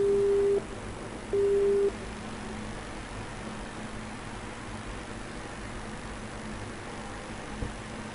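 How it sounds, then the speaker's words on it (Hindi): Telephone busy tone after a phone call is disconnected on a news broadcast line: two steady beeps, roughly half a second each, heard alone over a low background hiss. "दोनों ने ही अपना फोन काट दिया है"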